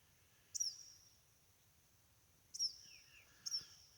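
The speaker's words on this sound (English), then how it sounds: "This songbird's awful interested in me." Faint, distant songbird chirps echo near a lake campsite on crown land, three short bright calls spaced out by seconds of near silence, with a soft low hum of calm air beneath.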